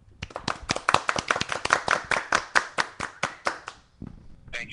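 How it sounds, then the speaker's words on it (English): A small radio show audience claps for a guest, with sharp, distinct claps in a quick, fairly even rhythm for about four seconds before stopping. "let's give a Fully Baked Radio round of applause to the one and only Ricardo Rivera."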